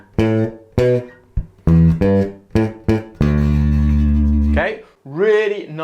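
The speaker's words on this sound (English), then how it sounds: "really nice, simple, funky bass line" The first two bars of a simple, funky electric bass line, played up close and loud: punchy plucked notes in a syncopated rhythm ending on one long sustained low note, followed by a brief sliding tail.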